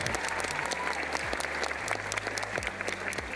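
Steady crowd clapping, a continuous dense patter of applause running throughout, with low droning tones sliding underneath.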